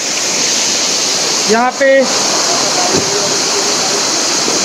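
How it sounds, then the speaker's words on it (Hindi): Kalothe Waterfall near Khopoli, Maharashtra, swollen by monsoon rain, roars with a loud, steady, close-up rush of water, while someone briefly speaks over it. "इस वक्त वाटरफॉल का फ्लो जो है वो बहुत तेज है।"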